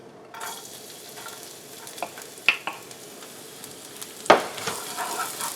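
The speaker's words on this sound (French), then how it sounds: "On peut juste aromatiser notre huile avec l'ail." Garlic sizzles in hot oil in a pan, a steady close crackle with scattered louder pops and spatters and a sharp burst near the end, no talking.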